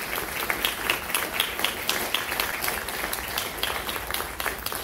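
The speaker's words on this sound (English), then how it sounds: "Let's give all the students a round of applause one more time." An audience at a music recital claps for the students, a steady patter of many hands with sharper individual claps standing out, even and sustained throughout.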